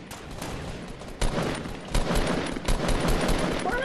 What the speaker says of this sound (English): Oh, two people shooting.